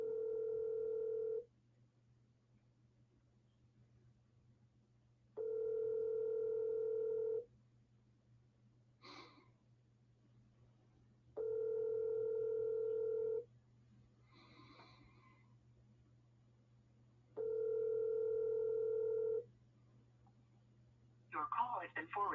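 A telephone line plays a repeating ringback tone during an outgoing cold call, four evenly spaced two-second tone bursts separated by quiet gaps, with brief other noises between them.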